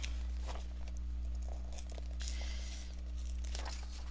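Paper being torn out of a collage journal, a few ragged rips and crinkles spread across a few seconds, close and fairly quiet over a steady low hum.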